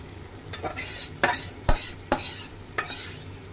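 Chicken pieces frying in oil with fried onions, a soft sizzle beneath several sharp, close spatula scrapes and clanks against the pot at irregular intervals, with no voices.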